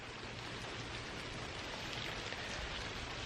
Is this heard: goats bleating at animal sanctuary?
no